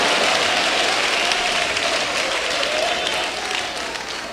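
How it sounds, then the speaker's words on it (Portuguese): A church congregation claps and applauds together, dense and continuous, filling the room at steady volume before easing slightly toward the end. "Mais palmas, mais glória a Deus, mais forte as palmas."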